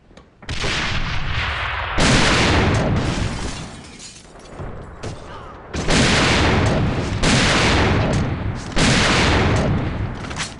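Loud bursts of gunfire and explosions from the AVA first-person shooter video game, including a grenade blast, come in heavy overlapping waves with brief lulls in between.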